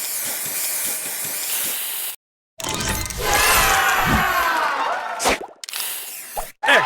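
In the Match Masters mobile game, a spray booster effect fires with bright hissing spray and plopping bursts over cheering crowd sounds, broken by short silent gaps between bursts.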